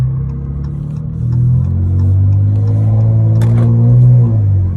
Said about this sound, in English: I'm going to go with a slow rev